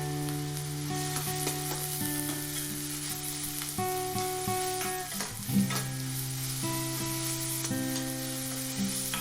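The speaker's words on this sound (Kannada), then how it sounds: "ಹಾಗೆಯೇ ಸ್ಲೈಸ್ ಮಾಡಿದಂಥ 3ರಿಂದ 4 ಹಸಿರು ಮೆಣಸಿನಕಾಯಿಯನ್ನು ಹಾಕ್ಕೊಂಬಿಟ್ಟು ಸ್ವಲ್ಪ ಅದನ್ನು ಹುರಿದುಕೊಳ್ಳಿ" Chopped onions and sliced green chillies fry in a pan for a chicken pepper dry roast, with a steady close sizzle, a steady tonal hum and an occasional stir.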